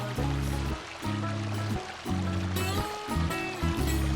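A garden stream and small waterfall running among shiitake logs, giving a steady, close rush of water under a continuous low droning hum that pulses and breaks off at intervals.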